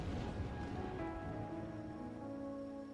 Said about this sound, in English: Oh, maybe the rain was on purpose.